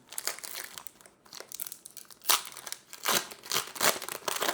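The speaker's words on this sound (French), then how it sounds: "On a encore 6 boosters à ouvrir." A Pokémon card booster pack wrapper crinkles and crackles loudly up close as it is torn open, in irregular bursts of crumpling foil with brief pauses between.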